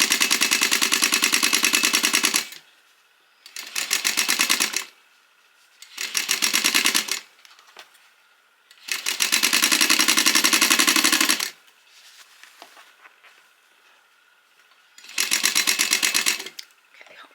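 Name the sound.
sewing machine stitching a grocery tote seam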